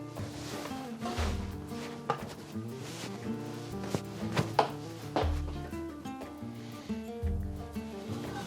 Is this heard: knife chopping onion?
yes